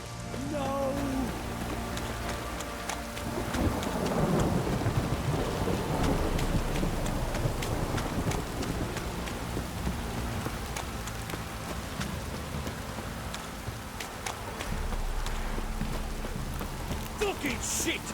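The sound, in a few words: heavy rain and thunder in the video game The Witcher 3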